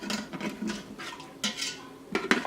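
A utensil scrapes and knocks against the bottom of an Instant Pot while deglazing with liquid, a series of quiet, irregular metallic strokes and clinks with no talking.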